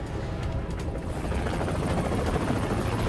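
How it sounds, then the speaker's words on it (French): Helicopter near a hospital rooftop landing pad, a heavy rotor thrum and engine roar that grows steadily louder and closer, alone with no talk. "Là, un hélicoptère."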